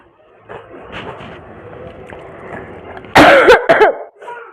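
A burst of several sharp coughs, loud and close, following a stretch of quieter low murmuring sounds.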